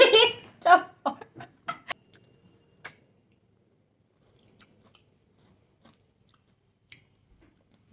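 Chocolate being bitten and chewed gives several close, sharp crunches in quick succession at the start, then a few sparse faint crackles fading into near silence.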